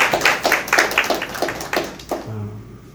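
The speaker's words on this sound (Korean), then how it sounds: "우리 주일 학생을 위해서 좀 격려의 박수 해주세요" Church congregation clapping in encouragement for Sunday school students after a camp, a short burst of scattered hand claps that fades within a couple of seconds, followed by a low hum.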